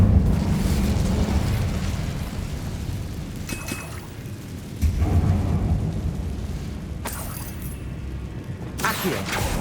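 Incendio fire spell cast in Hogwarts Legacy, a loud sustained roaring rumble with deep booming surges and a few bright crackling bursts, over constant game background noise.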